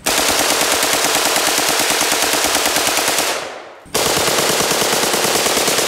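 An AK-47 firing full auto into a washing machine: a loud, sustained burst of rapid shots that stops abruptly for about half a second, then resumes at the same relentless pace until the end.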